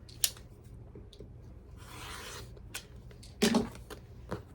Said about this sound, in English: we're going to cut down that line that we just drew, so we will end up with 2 half square triangles